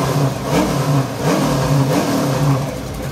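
Two daily-driver drag cars rev their engines before a grudge race, giving a loud, continuous rising and falling mid-pitched roar with no talking over it.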